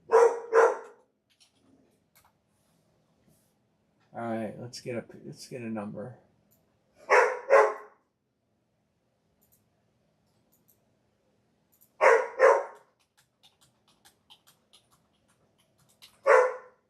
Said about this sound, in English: why is the dog going crazy?